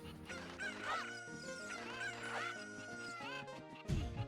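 Chicken clucks and squawks repeat from the game Zelda: Ocarina of Time, several bursts close together in the foreground over a steady game music backdrop, ending with a brief thump.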